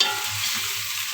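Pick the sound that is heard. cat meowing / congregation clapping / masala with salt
masala with salt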